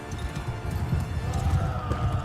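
Horse hooves clip-clop steadily in the video game Mount and Blade II: Bannerlord, a dense, continuous galloping patter with faint battle ambience and no clear talk.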